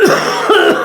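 Three harsh, close coughs in quick succession, loud and alone, each a short rasping burst with a brief pause between.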